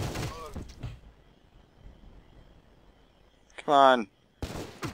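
Gunshots ring out in the shooting game Sure Shot, with a burst of sharp bangs near the start and again toward the end, while someone speaks briefly over the action.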